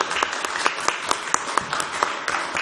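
Sparse, light applause patters through a city council chamber, with a handful of distinct claps standing out against a soft background murmur.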